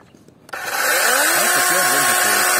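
A cordless battery chainsaw starts up and runs close and loud with a steady high whine and rising and falling motor tones, after a quiet moment at the start.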